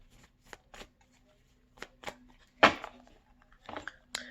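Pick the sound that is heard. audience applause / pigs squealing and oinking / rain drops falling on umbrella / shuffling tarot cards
shuffling tarot cards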